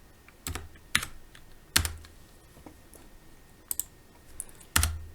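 Keys clack on a computer keyboard while a Java class is written in an IDE, irregular close taps with several louder strikes spaced about a second apart over quiet room tone.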